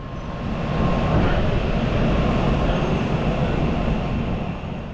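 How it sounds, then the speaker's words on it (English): An N700A Kodama Shinkansen bullet train departs Odawara Station with a loud, close, broadband rumble and whoosh that swells quickly and holds steady as it passes. "N700A Kodama train departing for Nagoya"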